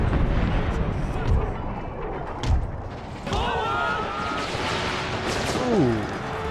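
Artillery rounds slam into cavalry in Empire: Total War, heavy booming impacts and thuds scattered over several seconds amid a roaring battle din, with a voice talking over part of it.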